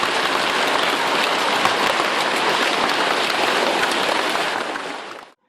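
Dense hail hammers down in a continuous, loud roar of countless impacts, steady throughout before cutting off abruptly at the end.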